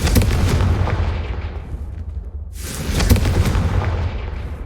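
Blasting curse spell Confringo cast in the Hogwarts Legacy video game: loud, rumbling explosive bursts fill the clip, fading briefly to a near-silent lull in the middle before another heavy blast erupts and rolls on.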